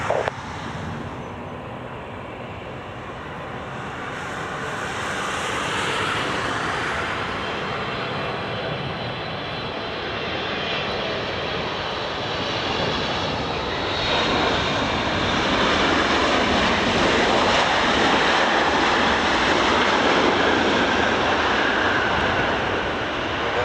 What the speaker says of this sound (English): Emirates Flight Niner, clear to land runway 23